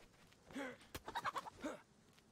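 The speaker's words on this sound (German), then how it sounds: "Huhn!" A chicken in the DayZ video game clucks softly in a quick run of several short clucks, faint and close, with a single sharp click in between.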